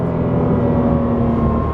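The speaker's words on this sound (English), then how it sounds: "Hear that flat six howl?" A Porsche flat-six engine howls steadily under load during a track day at Blyton Park, a loud, sustained in-car drone heard close up with no break.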